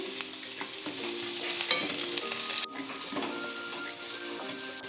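A spoonful of poppy seeds roasts in a pan for a Malnad-style egg curry, giving a close, continuous dry sizzle with scraping stirs and a sharp break partway through.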